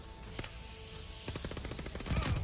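Video game gunfire: a few scattered shots early, then a dense burst of rapid automatic fire with heavy low thumps toward the end, loud and close, with no talk.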